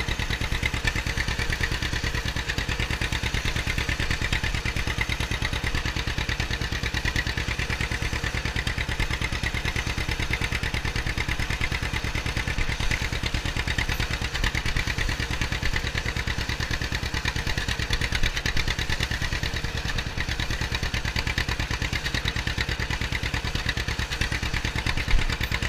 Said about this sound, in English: Nothing sounds better than the John Deere.